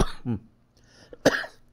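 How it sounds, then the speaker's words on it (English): A person coughs sharply a few times, with brief pauses between the harsh, throaty bursts, close to the microphone. "It's still got a little lingering cough"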